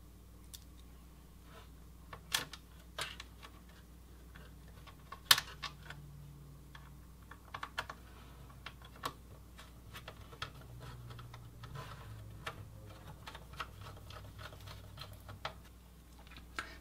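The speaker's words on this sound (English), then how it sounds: "Now we can put all the screws back in." Screws going back into a small-form-factor 780 desktop computer case: faint, scattered small clicks and ticks at an irregular pace, quiet and close, with no talking.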